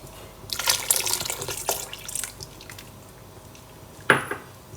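Liquid is poured into a pan of milk for a simple milk pudding, with wet splashing and trickling in bursts, a gap, then a sharp clink, all close and without talking.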